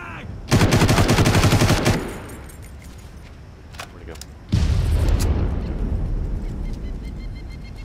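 In Far Cry, a frag grenade blast and gunfire come as a loud, dense burst of shots and booms lasting over a second, then a quieter gap with scattered clicks, then a second long, heavy roar of fire and explosion that slowly tails off.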